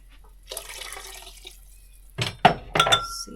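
Water is poured into a soup pot already holding vegetable stock, giving short splashing and gurgling bursts with a faint clink, close by and without any talk.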